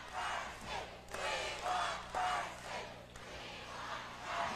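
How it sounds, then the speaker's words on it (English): A large crowd at a 1987 NWA pro wrestling TV event roars and cheers in swelling waves, loud and sustained from a distance, with rising shouts over a constant hall hubbub. "Listen to the crowd."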